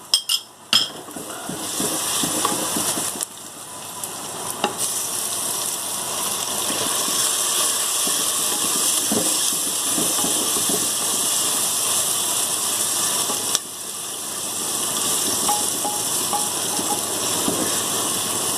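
Green chillies sizzling in hot oil with cumin and cooked onion for an aloo palak dish, a loud steady frying hiss with occasional metal spoon clinks against the pan.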